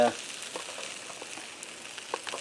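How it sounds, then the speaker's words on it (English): Steady sizzling and crackling of porterhouse steak frying in garlic butter, close and continuous, with faint pops throughout. "let it sit in this wonderful sizzling butter, garlic butter"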